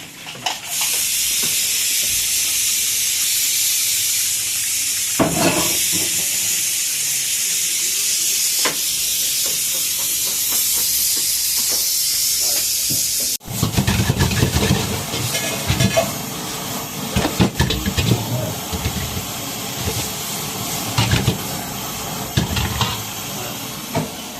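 A loud, steady hiss of escaping steam, like a pressure cooker venting, carries on for several seconds before giving way to busier, clattering background noise.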